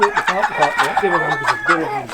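A rooster crows loudly and close, with clucking fowl around it.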